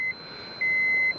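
A Geiger counter sounds its alarm while held over radioactive rock, fluorite mixed with pitchblende, on a hike in Boulder County, Colorado. A steady electronic beep tone runs through the clip, loud and close, rising again midway and holding to the end.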